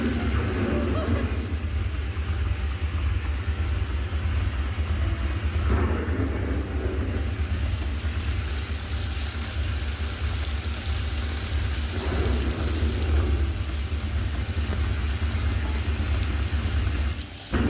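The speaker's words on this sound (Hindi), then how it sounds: "यहाँ पे रात को अगर बारिश हो जंगल में तो कैसी आवाज़ें आती हैं" Steady heavy rain pours down at night in the Jim Corbett jungle with deep rolling thunder rumbling through, a continuous dense wash of noise with no voices.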